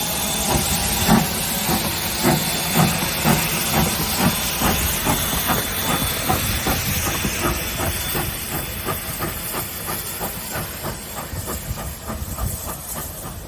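A vintage steam train in New Zealand chugs steadily along with a rhythmic clatter of wheels over rails and a constant hiss of steam, loud and close throughout.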